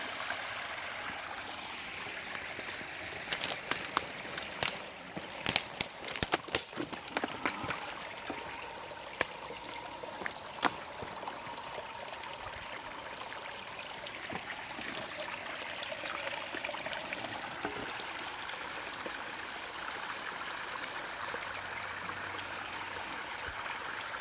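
Cool mountain water flows in a stream with a steady, soft rush, heard close by on a descent from the hills, with scattered clicks and knocks early on over the constant flow.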